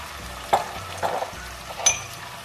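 Ginger garlic paste and tomatoes frying in a pan for moong dal, a soft steady sizzle broken by three scraping stirs of a spoon, close and alone.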